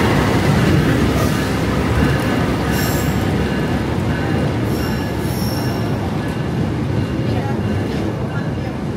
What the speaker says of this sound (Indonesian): Nah, ini adalah kereta Argo Dwi Bangga.